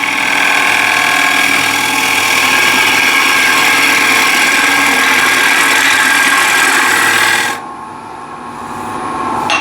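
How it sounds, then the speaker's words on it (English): A sharpening grinder running an 80 grit CBN wheel, producing a steady loud rasping hiss with a bright grinding tone that cuts off abruptly near the end, leaving a quieter whir. "So this is 80 grit CBN wheel."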